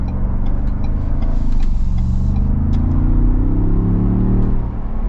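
A Ford Bronco Wildtrak on the road gives a steady, close cabin rumble of engine and tyres, with the engine note rising as it accelerates. No one talks.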